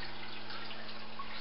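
A 264 gallon per hour aquaculture pump pushes water up a hose toward a jar, giving a steady, close liquid trickle and drip over a constant low hum, with no talking.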